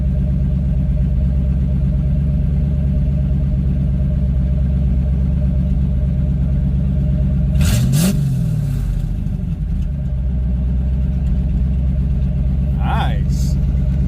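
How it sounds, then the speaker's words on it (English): A warm 1986 Ford Mustang GT Foxbody idles with a steady low rumble, gives one short sharp rev, and drops back to idle, with a voice speaking briefly near the end. "We'll give it a little bit of a rev since it's got some heat in it and see what it sounds like."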